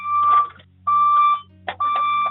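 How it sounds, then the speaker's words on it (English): An alarm clock rings in three long repeated bursts of steady electronic tone with short gaps between them, loud and close, with no voices over it. "I gotta turn off my alarm"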